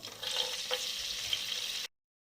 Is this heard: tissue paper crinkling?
no